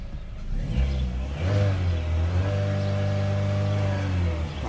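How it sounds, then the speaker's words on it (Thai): A Chevrolet Cruze engine idles steadily after starting, a loud, close, even hum with a slight rise near the start, following a repair of a P069E fault. "สตาร์ทติดเครื่องเดินปกตินะครับ"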